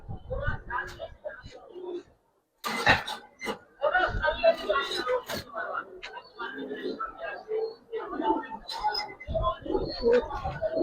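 Pigeons coo repeatedly close by, a Giribaz khaki pair, with someone talking over much of it and a few sharp knocks and a brief silent gap early on.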